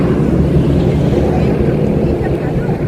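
Steady wind rushes across an open parking area on a cool day, a continuous low roar buffeting the microphone, loud and unbroken throughout.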